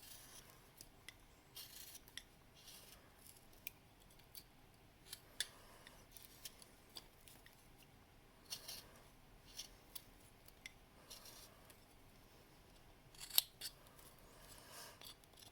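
Small whittling knife shaving into wood while carving a gnome, deepening the cut lines; quiet, close scraping strokes come in irregular bursts, with one sharper snick near the end.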